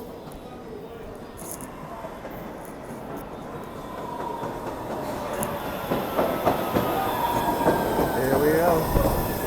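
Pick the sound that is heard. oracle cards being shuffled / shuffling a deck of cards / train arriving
train arriving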